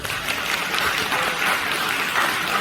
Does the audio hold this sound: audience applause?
yes